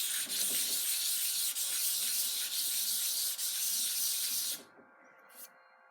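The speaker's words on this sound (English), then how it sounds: "Little piece of tape helps to sand small pieces." Steady abrasive rasp of sandpaper on a small chef knife piece held with tape, continuous close scrubbing strokes for several seconds before stopping abruptly near the end.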